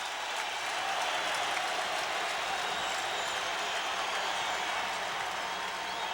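Basketball arena crowd during a 1990 Bulls vs. 76ers playoff game, a steady loud roar of cheering and applause from thousands of fans on their feet, continuous and dense with no letup.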